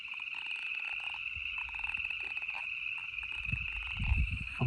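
A thumb rubbed across a comb mimics the boreal chorus frog of Grand Teton National Park, producing a continuous, raspy, high-pitched chirring that runs throughout, fairly faint, with some low rumbling toward the end and no speech.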